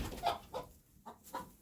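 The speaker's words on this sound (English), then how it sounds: "I've got chickens flying behind me." Hens on a homestead cluck softly in short separate bursts, four or five faint clucks spaced across a quiet moment.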